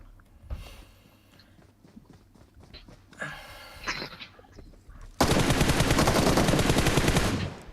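Rapid automatic gunfire from the mobile battle-royale game PUBG Mobile, starting with scattered single shots and thuds, then a sustained loud burst of continuous firing over the final seconds.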